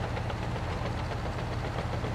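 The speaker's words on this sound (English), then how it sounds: "The problem is it's really muddy here and our dozer's struggling to push it." A bulldozer engine in Farming Simulator 19 labors while pushing heavy mud, a steady low rumbling drone with a rhythmic knocking pulse, close and unbroken.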